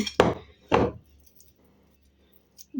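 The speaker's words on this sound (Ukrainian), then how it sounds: "Роблю по бокам звичайні такі надрізи." A knife cuts slits into rolled-out dough for an Easter strudel roll on a cutting board, two sharp, close chopping taps in quick succession followed by near silence.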